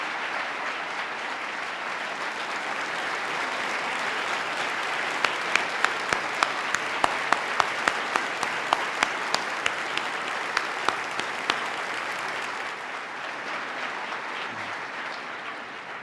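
Sustained applause from a large audience at a governor's state agenda address, steady and dense for the full stretch, with a brief burst of sharper individual claps in the middle before it thins slightly toward the end.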